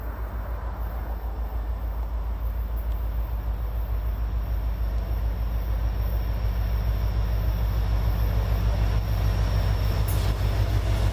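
Southbound D&H freight train 556X rolls past on rails beside an out-of-service siding, a steady loud rumble of wheels and cars with faint squeals, sustained and close throughout.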